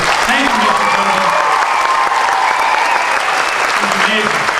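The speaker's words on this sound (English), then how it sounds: "I really want you all to give a loud round of applause to President Brown." Loud, sustained applause fills a graduation ceremony for President Brown, a dense steady wash of clapping lasting the whole stretch, with faint voices and cheers mixed in beneath.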